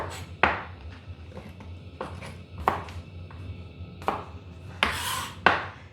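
A knife chops a carrot on a cutting board while stir-fry vegetables are prepped for French beans fried with prawns; several sharp, irregular knocks ring out close by, with quiet gaps between them.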